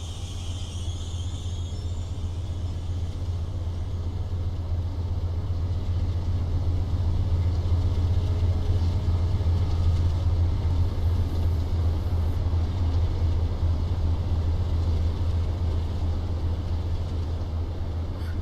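A Dash 8 diesel locomotive passes on the North Jersey Coast Line in Train Simulator. A heavy, steady low engine rumble and rolling noise swell gently toward the middle and continue for the whole stretch, with no talking over it.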